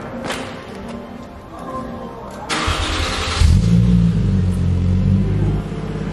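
A Toyota JZX100 fitted with an HKS Hi-Power exhaust cranks and fires up for the first time, the starter whir giving way to a steady, loud idle rumble, close by with no talk.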